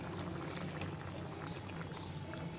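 Restaurant-style paneer mixed vegetable curry boils in a pan, giving a faint, steady, close bubbling with no voices.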